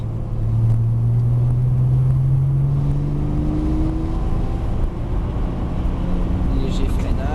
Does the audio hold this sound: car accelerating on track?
yes